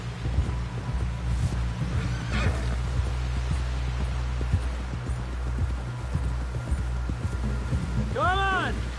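A horse in the Red Dead Redemption 2 video game clops along steadily at a walk under a low ambient rumble, ending with a clear whinny near the end; game dialogue is heard over the hooves.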